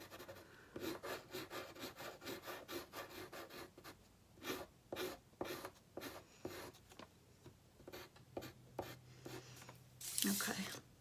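A dull pencil scratches back and forth on paper, shading a grid drawing in quick, rhythmic strokes that pause and resume, with a person talking at times over it.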